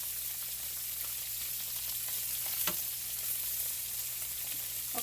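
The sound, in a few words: salmon pan frying on high heat in a big skillet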